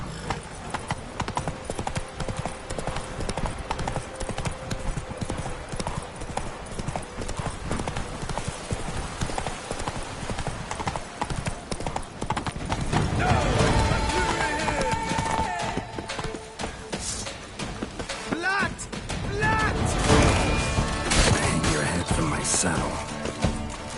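Galloping hoofbeats from Roach in The Witcher 3 pound on steadily and close by. In the second half the ride swells with louder bursts, a whinny and muffled voices over the continuing run.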